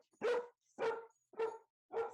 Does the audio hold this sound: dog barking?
yes